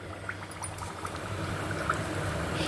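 Hot oil bubbles and crackles softly around murukku deep-frying in a pan, a steady low fizzing with scattered faint pops, fairly quiet throughout.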